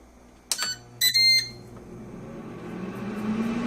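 A Ninja air fryer gives a couple of short electronic beeps as its timer is set, close by, then its fan hum rises and keeps running steadily.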